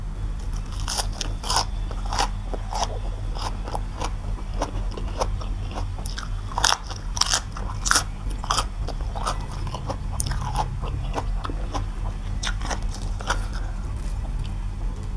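Crispy deep-fried red sausage, crunchy outside and soft inside, is bitten and chewed up close, with loud repeated crackling crunches in a steady chewing rhythm that runs throughout, with no talk.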